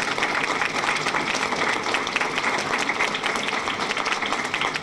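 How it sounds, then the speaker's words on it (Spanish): A crowd at a closing armed forces exhibition applauds the army and navy, with continuous, fairly loud clapping mixed with crowd noise throughout. "Un aplauso al Ejército"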